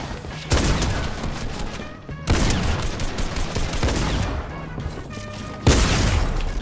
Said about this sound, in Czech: Bomba, kámo! Bum.